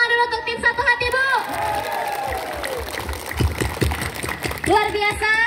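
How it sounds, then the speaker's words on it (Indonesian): A crowd applauds and cheers at a village head election campaign gathering, steady clapping and scattered shouts under and between a loud speaker's amplified voice. "Coba Bu tepuk tangan dulu untuk tim Satu Hati Bu."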